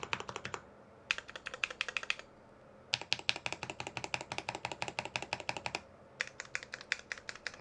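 Rapid typing on a KBD67 Lite mechanical keyboard built with a brass plate, crisp clacky keystrokes in dense bursts separated by short pauses, close and clear with no talking.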